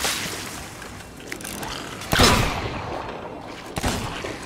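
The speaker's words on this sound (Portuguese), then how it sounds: "Como que eu errei esse tiro?" Gunfire from a Sea of Thieves pirate battle: a sharp, loud shot crack, then a quieter second shot, over faint background rumble.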